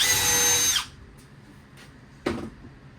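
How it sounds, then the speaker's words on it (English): A power drill whirs loudly for under a second while pre-drilling a hole in a dog crate build, then stops; a brief quieter mechanical rattle follows near the end. "I'm just going to pre-drill that right there"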